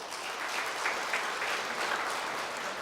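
Church congregation applauding during a pastor's installation service in Korea, a steady, even wash of clapping throughout the short stretch with no voices on top.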